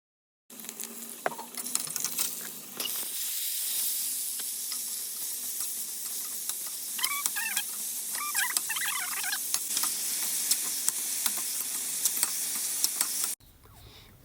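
Cane shoots frying in a pan with onion and chili give off a steady, busy sizzle with crackling pops and light stirring scrapes. It runs close and continuous for most of the stretch, then cuts off abruptly.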